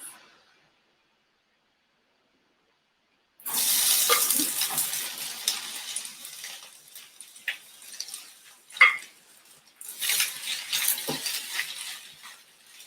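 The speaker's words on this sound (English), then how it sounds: "You can hear that nice little sizzle in there." Mixed vegetables hit hot oil in a pan, a bright hissing sizzle that starts abruptly after near-silence, then fades and swells with occasional clatters and stirring noises, close and without talk.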